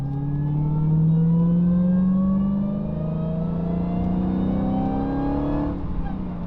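A Dodge Challenger Hellcat Redeye's supercharger whine rises in pitch as the car accelerates, loud and close, holding a continuous tone for several seconds before dropping off.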